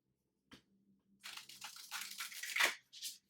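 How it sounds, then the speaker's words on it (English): Tarot cards being shuffled by hand, a quiet riffle and crinkle of card stock: a faint tap, then a dense run of papery flicking and rustling that swells and stops, heard close and alone. "One more shuffle."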